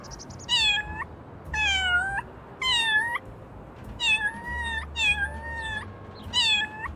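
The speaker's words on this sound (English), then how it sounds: "I can meow?" A cartoon cat meows in the video game Little Kitty, Big City, six clear meows in a row spaced about a second apart, loud and close with no talking.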